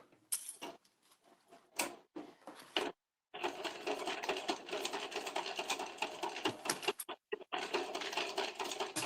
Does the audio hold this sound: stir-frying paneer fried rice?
no